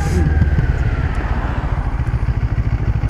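A CF Moto 650NK motorcycle being ridden, its engine a loud, steady low rumble with a pulsing beat close by, and no talk over it.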